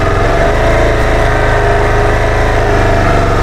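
KTM ADV 390 motorcycle engine held at constant throttle while crawling through snow and slush on an offroad trail near Manali, a loud, close, steady mid-pitched thrum without talk.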